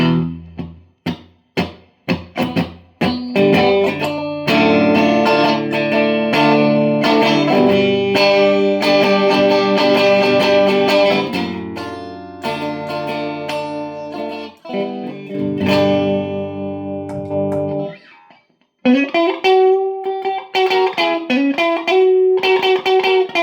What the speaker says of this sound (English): I'll do the distortion tones during this.